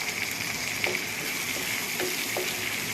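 Onion paste with curry leaves frying in oil in a pan for bitter gourd onion curry, a steady hissing sizzle with a few faint spoon taps, close and unbroken, no voices.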